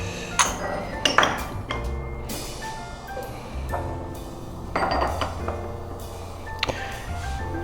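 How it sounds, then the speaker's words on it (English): Porcelain tea tasting cups upended during a tea tasting, giving a series of bright clinks and knocks, some clustered in quick pairs, ringing briefly between quieter handling noises. "We upend them, and the liquor goes through these fine serrations in the cup"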